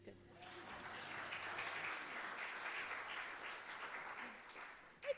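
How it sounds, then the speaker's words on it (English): An audience at a spiritual lesson claps steadily in a dense, even wash of applause that lasts about five seconds, fairly faint and distant, then stops. "You can clap now if you want."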